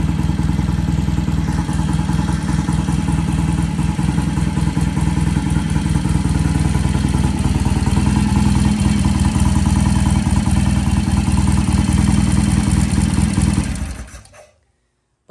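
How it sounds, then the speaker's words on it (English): A vintage British motorcycle engine runs steadily and loud at close range, a busy mechanical clatter over a rumbling idle that holds for most of the stretch before cutting out abruptly near the end. "the bike started easily, sounds really good, idles nicely"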